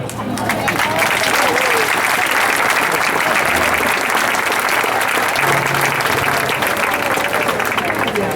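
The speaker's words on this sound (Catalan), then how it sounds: "us demanarem un fort aplaudiment per vosaltres mateixos" Loud, sustained applause from a large crowd at a habaneras singing event during local festivities, steady and dense throughout with a few voices cheering faintly underneath.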